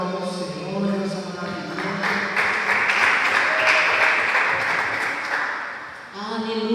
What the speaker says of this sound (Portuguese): Glória a Deus, aplauda ao Senhor